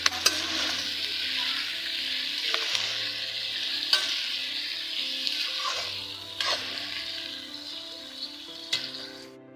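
Onions fry with ginger and garlic paste for chicken curry, making a loud, steady sizzle up close, broken by occasional stirring scrapes and knocks of a spoon against the pan.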